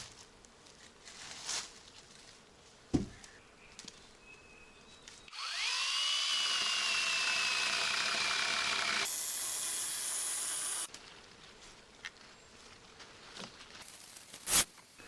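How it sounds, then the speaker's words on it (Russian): A loud, steady whine of a saw cutting through logs in a forest for several seconds, pitch shifting slightly, with quieter rustling and clicks before and after. "Сейчас начну пилить бревна по очереди. Одной пилой, потом второй."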